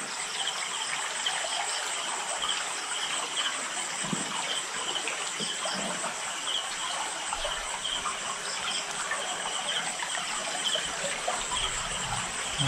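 Floodwater rushing beneath an unfinished bridge under construction, a steady broadband wash of flowing water that stays constant throughout, mixed with a continuous high insect or cricket drone, with no talking.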